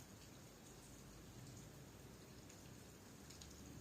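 Steady rain falling outside a room, a soft continuous hiss with faint scattered droplet patter, quiet and distant throughout with no voices.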